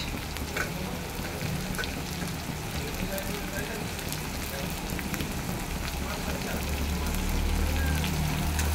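Chopped onions frying in a pan for a spicy red goat meat curry, giving a steady dense sizzle throughout that swells slightly near the end.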